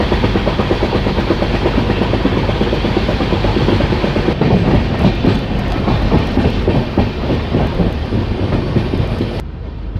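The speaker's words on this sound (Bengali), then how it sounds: "আর ট্রেন লাগাতার একশো স্পিডে ছুটে চলেছে" A Garib Rath passenger train rushes along at about 100 km/h on a hilly route near New Bongaigaon, with a loud, steady roar and rapid clattering of wheels on the rails, before the noise drops abruptly.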